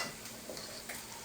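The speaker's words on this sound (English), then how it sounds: "you want to mix this up real good and try to cream it together as much as you possibly can" A casserole topping is mixed and creamed together in a bowl, producing a brief, soft scraping and stirring sound close by.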